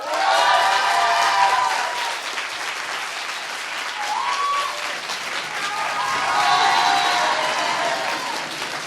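Audience applause at an eloquence competition held at IAE Aix, a loud sustained wash of clapping across the whole stretch, with some voices and calls rising within the crowd.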